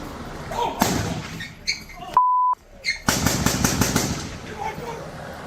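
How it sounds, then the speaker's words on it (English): A burst of rapid gunshots crackles loudly from a short distance during an eviction-notice shooting in Porterville, with a pause and a brief tone in between, then more rapid firing follows. "with one neighbor recording the gunfire"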